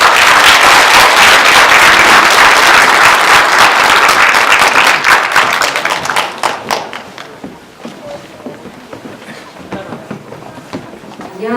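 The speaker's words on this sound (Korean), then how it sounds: "큰 박수로 맞아주시기 바랍니다." A crowd applauds at a memorial book concert for Sewol ferry families in Chuncheon. The clapping is loud and dense at first, then thins over several seconds into scattered individual claps.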